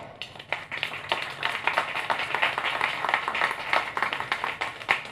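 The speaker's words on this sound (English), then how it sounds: "I just want to give them a round of applause" An audience applauds the repair masters at the MiNT InstantFlex TL70 camera launch event, a steady, dense patter of many hands clapping that runs for several seconds.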